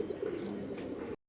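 Pigeons kept on a rooftop at dusk coo in a low, continuous murmur, fairly faint and alone, ending abruptly.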